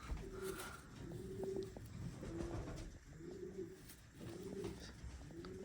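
A male racing pigeon cooing in a loft, a series of soft, low repeated coos in a steady rhythm over a busy, noisy background.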